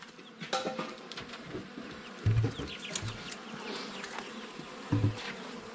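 Bees buzzing around close by, a steady droning hum with individual insects swelling louder as they pass, no talking.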